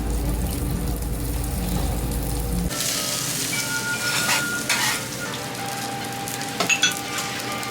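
A hamburger steak sizzles loudly in a hot pan with sauce at a Japanese restaurant, a close, continuous crackling hiss with low room noise that fades partway through and some light clinks.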